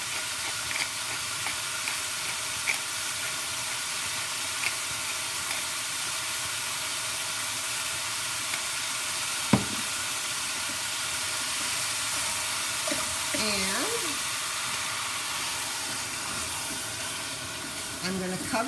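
Chopped pepper sizzles in a pot for butternut squash soup, a steady close hiss and crackle running throughout with a few faint clinks and soft noises over it.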